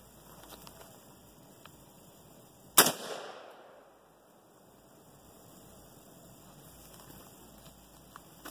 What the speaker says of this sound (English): so we'll shoot the rest of these three.